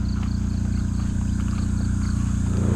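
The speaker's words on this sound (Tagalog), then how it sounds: "Yung ingay na naririnig nyo sa background natin, yun yung mga traditional na generator." Traditional fuel generators running near a parked campervan give a loud, steady droning hum with a deep throbbing undertone. It carries on unbroken and alone, with no talking.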